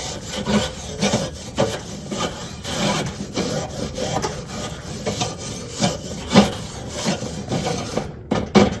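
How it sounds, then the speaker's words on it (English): Rough, steady scrubbing against the surface-rusted metal of a 22-inch copper Weber Performer grill, a continuous rasping rub with repeated back-and-forth strokes, close and fairly loud, with no voices. "let's just start scrubbing, okay? And what we want to do is try to get this surface rust off."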